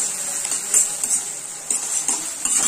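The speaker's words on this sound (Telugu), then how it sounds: "ఇప్పుడు ఒకసారి బాగా కలుపుకోవాలి." A spoon stirs gobi manchurian with ketchup sauce in a bowl, making soft repeated scraping and clinking strokes close by with no talk.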